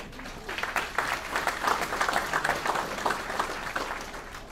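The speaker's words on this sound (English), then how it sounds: "I'll give him a hand clap for that." Applause for an inductee at a Texas track and field hall of fame ceremony, a moderate crowd clapping in a steady patter that swells and then tapers off, heard from a middle distance.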